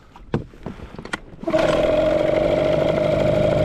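A Hangkai outboard boat motor catches and settles into a steady, loud idle after a few short clicks and knocks, running continuously with a strong constant hum and rattle.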